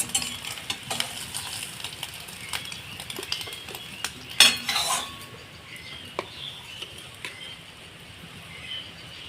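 Beaten egg for an omelette fries in hot oil, a steady broadband sizzle running throughout with scattered utensil scrapes and clinks, one louder clatter midway, heard up close with no talking.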